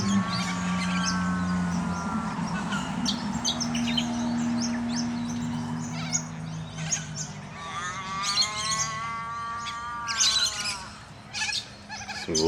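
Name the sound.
lorikeets calling while going into a tree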